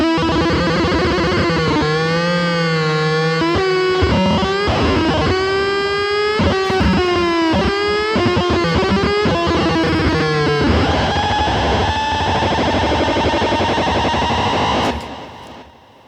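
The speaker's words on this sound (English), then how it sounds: "you get this like Nintendo-y sort of like sound that you're not supposed to get" A guitar pedal spits out a loud, glitchy, warbling chiptune-like tone that wobbles and stutters in pitch, then cuts off.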